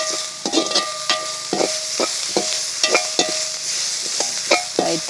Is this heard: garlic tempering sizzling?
yes